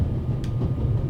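A moving train in the adventure game The Raven Remastered: a steady low rumbling roll, close and continuous, with a brief hiss partway through.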